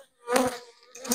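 Honey bees buzz at an opened beehive, a close, loud swell of droning that fades and then rises again within a moment.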